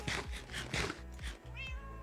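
A Minecraft cat gives a few short, high meows in quick succession, clear and close, standing out against faint background game sound, with no talking.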